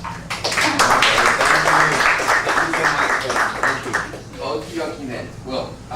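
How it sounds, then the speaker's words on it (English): Audience applause for a guest speaker at an English teaching event, a burst of dense clapping that swells quickly, holds, then thins out into scattered claps as it fades. "give him a warm applause and welcome"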